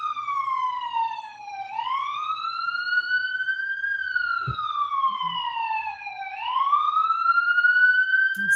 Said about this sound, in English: Sorry, I'm just waiting for the siren.